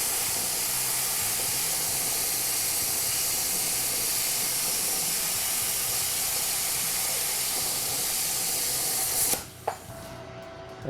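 Arccaptain plasma cutter slices through 16 gauge stainless steel with a loud, steady hissing roar that runs unbroken for about nine seconds, then cuts off abruptly, leaving a brief quieter hiss.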